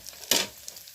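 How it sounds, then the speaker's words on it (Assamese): Mutton dropped into frying onions in a cooking pan gives one short, sharp sizzling burst that quickly settles into a faint, quiet hiss. "ভাজি ল'ব পিঁয়াজটো, মাংসটো পেলাই দিওঁ এতিয়া"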